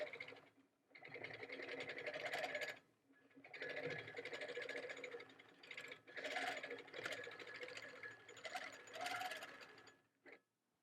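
A Handi Quilter longarm quilting machine runs through an edge-to-edge stitching pass, a steady mechanical whir in several long bursts with brief pauses between them.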